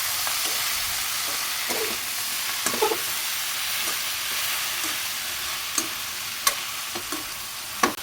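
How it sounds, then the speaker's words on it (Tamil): Eggplant and onion frying in a pan for a Tamil-style brinjal stir-fry, a steady close sizzle with intermittent scraping stirs and spatula clicks, no voices. "இப்போ அடுத்து வந்து நம்ம கத்திரிக்காய் போட போகிறோம்."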